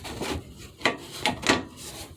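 A plastic front bumper end cap on a 2001 Jeep Cherokee XJ is slid into place, giving a few short scraping rubs of plastic against the bumper, close and fairly quiet, with no talking.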